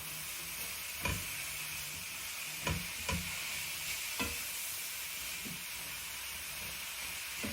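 Mushrooms frying in oil in a pan for a vegan noodle salad, a steady close sizzle and hiss broken by several sharp stirring scrapes, with no talk.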